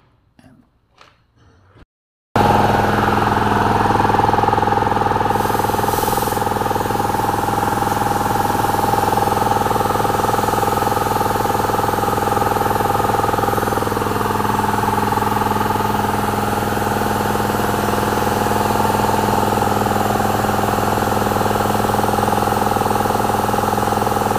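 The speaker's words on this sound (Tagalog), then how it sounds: "after running yung ating compressor for 3 minutes" Engine of an SCBA breathing-air compressor running steadily at a constant idle-like drone, loud and close, after a brief quiet moment at the start.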